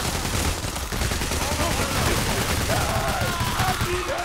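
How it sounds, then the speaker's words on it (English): Gunfire in the video game Payday The Heist crackles through a dense, noisy firefight, with some voice-like tones faintly present in the mix. "I need to use my pistol."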